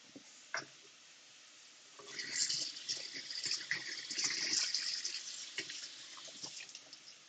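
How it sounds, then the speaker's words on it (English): Tap water rinses tiny baby anchovies in a kitchen, a quiet start with a faint tick, then a steady gushing stream from a faucet splashing onto the fish for several seconds before easing off with drips. "I'm just going to give these a little bit of a rinse."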